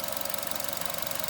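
A 2015 Chevy Trax with the 1.4 litre turbo Ecotec engine runs steadily and close up, giving a dense, even mechanical clatter with a fast regular pulse and a faint ticking knock, no voices.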